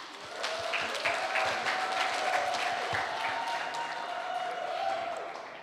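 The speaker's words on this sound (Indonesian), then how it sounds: "Mari kita berikan tepuk tangan yang meriah." A campus seminar audience in Indonesia applauds in a steady, moderately loud wash of clapping, heard alone with a faint sustained tone running beneath it.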